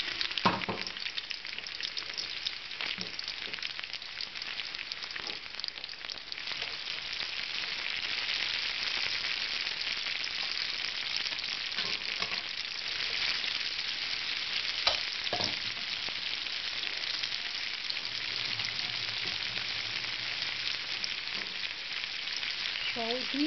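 Capsicum and other vegetables fry in a pan with a steady, dense sizzle that fills the whole stretch, with occasional stirring scrapes and brief clatter near the start and middle; no one talks.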